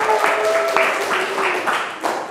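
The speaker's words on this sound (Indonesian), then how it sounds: "Tepuk tanganlah kanggo sedaya kelompok" Students in a classroom applaud all the groups, a short burst of scattered group clapping with a voice talking over it at the start, moderately loud and close.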